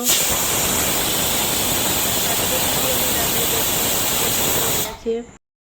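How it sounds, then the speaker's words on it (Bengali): A pressure cooker boiling potatoes lets out a loud, steady hiss of steam from its whistle that runs for about five seconds, then cuts off abruptly, leaving a few faint rattles. "এবার সিটি উঠবো উঠবো করছে এই যে সিটি উঠে গেল"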